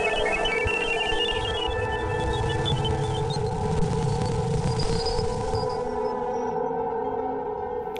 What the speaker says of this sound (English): This is the sound of Jupiter's magnetic field.